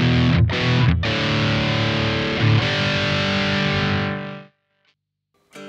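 Heavily distorted electric guitar played through a Wampler Pinnacle distortion pedal in modern mode with the tone turned down. A loud, sustained chord rings for about four seconds after a couple of quick stabs, then cuts off into near silence.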